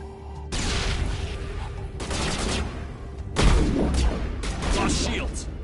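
A grenade explosion and gunfire in the Mass Effect game: loud, dense bursts of rapid fire in long continuous stretches, with a heavy booming surge partway through.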